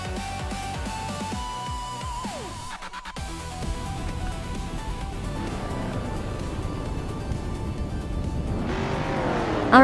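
1970s street cars rev and accelerate away at the start of a race at Castle Combe circuit, engines droning loudly and building with a tire squeal near the end.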